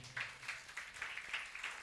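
Church congregation clapping loudly during a Telugu sermon, a quick steady patter of many hands that carries evenly through the whole moment, fairly distant with no voices over it.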